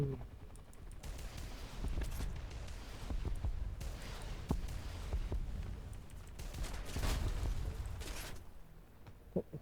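Helicopter cannon and machine-gun fire from an AH-1F Cobra in the War Thunder combat game, rapid crackling bursts with booming impacts spread across the whole stretch, loud and dense over a steady rumbling engine background.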